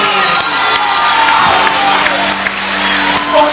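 Loud high school basketball gym crowd, Atlantic City at Holy Spirit, cheering, whooping and shouting in a dense continuous roar just before tip-off.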